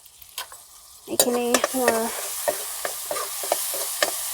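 Colocasia and passion fruit mix sizzling as it fries in a pan, with steady crackle and a few clinks of stirring; a brief voice speaks partway through.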